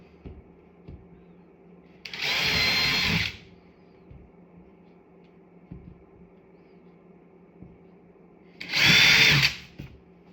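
Two loud bursts of a power drill boring into drywall, each about a second long and several seconds apart, with faint knocks and taps between them.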